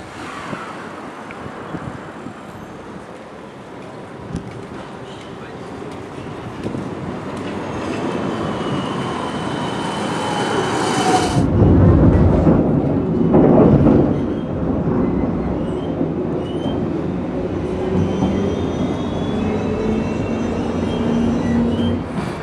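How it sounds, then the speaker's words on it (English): A tram ride heading to Amsterdam Central Railway Station, with a steady rumbling rolling noise and faint squeals, growing louder and rougher midway as the wheels clatter over track. "Time to grab a tram to Central Railway Station."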